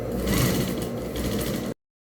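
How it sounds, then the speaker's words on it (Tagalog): A sewing machine stitches the hem of a violet Filipiniana sleeve. Its steady, close whirring runs continuously for under two seconds, then cuts off abruptly into silence. "Tahiin muna natin yung laylayan."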